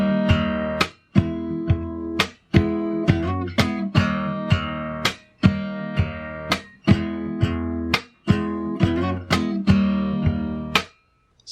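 Fingerstyle acoustic guitar plays the chorus chords of a song in a steady plucked rhythm, with a few brief pauses between phrases. It is close and clear, and no voice is heard.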